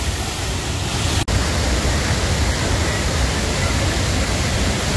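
Thoseghar waterfall, a deep plunging fall, roars as a steady, loud, unbroken wash of water close at hand, with a single sharp click partway through.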